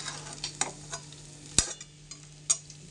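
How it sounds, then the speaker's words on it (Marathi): Potato pieces sautéed in a pan over a low gas flame, with a steady soft sizzle broken by a few sharp scrapes and clinks of a spoon stirring against the pan. "कमी गॅसमध्येच परतून घ्यायचं आपल्याला."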